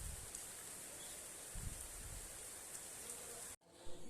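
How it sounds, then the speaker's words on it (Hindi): Heavy rain falls steadily in a continuous, dense hiss that holds for about three and a half seconds. It breaks off abruptly, leaving a short quieter tail. "बारिश देखिए कितनी तेज़ बारिश हो रही है।"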